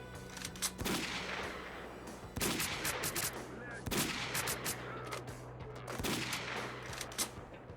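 Gunfire in STALKER: Call of Pripyat, with sparse distant-sounding shots and short bursts spaced a second or two apart over a steady game background, fairly quiet overall.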